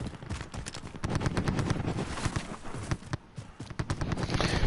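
Gunfire in Warzone crackling from all directions, rapid bursts of automatic shots and single cracks overlapping densely, some close and loud, with a brief lull before the firing picks up again.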